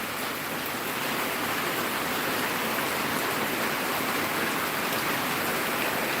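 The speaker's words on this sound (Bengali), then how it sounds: "আজকে একদম স্বস্তির একটা বৃষ্টি শুরু হয়ে গেছে" Steady, dense rain pours down without pause after a hot, sunny day, a loud and even wash of drops with no voices.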